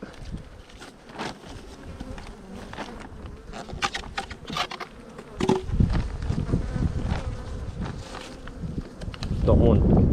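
Honeybees buzz steadily and close around an opened hive on a cold, windy day, with gusts of wind rumbling against the microphone.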